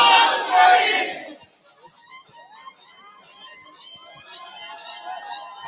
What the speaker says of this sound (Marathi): सगळ्या पुरुषांनी जल्लोष केला.